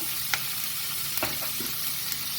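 Cumin seeds sizzle in hot butter for pav bhaji, a continuous close hiss with a few brief crackles and pops scattered through it.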